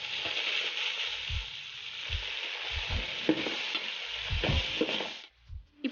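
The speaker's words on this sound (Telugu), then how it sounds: "కాజు కూడా కలర్ చేంజ్ అయ్యేంత వరకు ఇలా ఫ్రై చేసేసుకుంటున్నాను." Cashews, mint and coriander fry in a pan for chicken biryani, a steady close sizzle broken by scraping stirs, and the frying ends abruptly near the finish.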